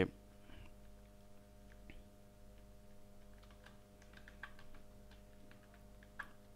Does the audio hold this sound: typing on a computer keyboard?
yes